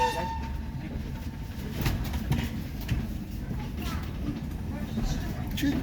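A heritage steam train runs between Minehead and Watchet, giving a steady low rumble and rattle of carriages throughout, with people talking over it.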